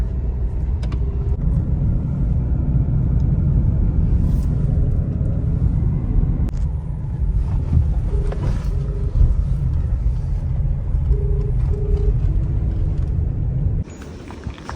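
A car engine rumbles steadily close up as the car is revved and driven off, a continuous low drone with a few faint voices under it before it cuts off near the end.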